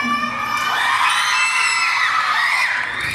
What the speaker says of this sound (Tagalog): Wala po ba ang hiyawan dyan?